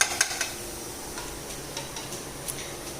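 Boondi batter drops fry in a large pan of hot oil, making a steady close sizzle with light crackling ticks and a few scrapes at the start.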